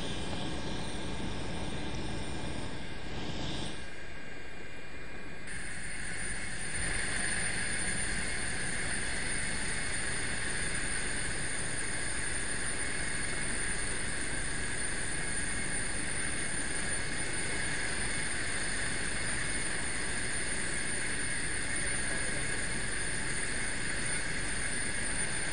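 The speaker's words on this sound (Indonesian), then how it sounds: "Berikut ini Putri adalah gambar bagaimana helikopter milik Basarnas yang dikemudikan oleh pilot dari Angkatan Laut ketika berusaha mengevakuasi 4 jenazah di KN Pacitan hari ini." Basarnas rescue helicopter flown by a navy pilot during the QZ8501 victim evacuation from a ship at sea, its steady rotor and turbine drone sustained and fairly loud throughout with no talking.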